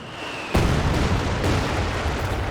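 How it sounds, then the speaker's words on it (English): A Katyusha rocket barrage in the Company of Heroes 2 video game bursts in suddenly after a quieter stretch, then carries on as a loud, dense, rumbling roll of blasts until the end. "Big whiff on that Katyusha barrage"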